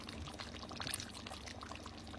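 Coconut milk pours steadily into a pot, a soft continuous gurgle heard up close and fairly quiet.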